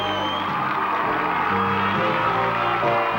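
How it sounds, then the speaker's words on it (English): A studio audience greeting the cast of Cheers with loud, continuous cheering, whoops and crowd roar, dense and sustained throughout, with voices mixed into the din. "Let's give them a big round of applause, everybody!"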